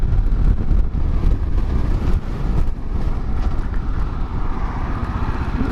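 Heavy, buffeting wind roar on a camera microphone while riding into a headwind, loud and continuous with gusty dips and rumbles, no voices.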